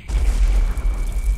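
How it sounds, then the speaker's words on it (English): Grenade explosions in the video game Gorilla Simulator come as a dense run of deep, loud booms that rumble close together across the moment. "Grenade spam!"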